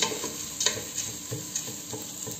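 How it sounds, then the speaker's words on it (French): Coral lentils being stirred in a pot over heat, a spoon scraping around in quick repeated strokes above a steady sizzle, heard up close. "Et on mélange le tout."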